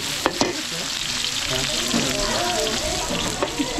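Garlic and onion sauté in a pan at an outdoor cooking setup with a steady close sizzle and bubbling hiss, broken by a few sharp utensil knocks near the start and end.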